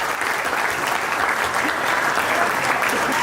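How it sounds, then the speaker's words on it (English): Wedding guests give the best man a steady round of applause, dense and even clapping from a sizable crowd that holds at full strength throughout. "Have a nice round of applause here,"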